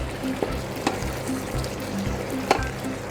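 Pasta, 185 grams of it, gets stirred into a beef strip sauce in a sizzling frying pan, with a steady quiet fry broken by several sharp clinks of the utensil against the pan.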